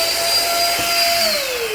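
H&L HL419 electric paint sprayer motor running unloaded, a loud steady close whine with a faint pitch dip near the end.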